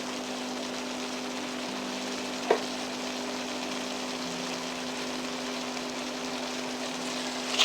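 Lentil chili with green onions cooks in a pot, giving a steady soft simmering hiss with a single sharp clink of a utensil partway through, no voices.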